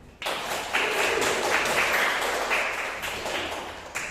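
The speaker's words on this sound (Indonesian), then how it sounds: "Oke, tepuk tangan semua." Classroom applause from students in an Indonesian history lesson, a broad steady clapping texture lasting a few seconds, moderately loud with a slight swell near the end.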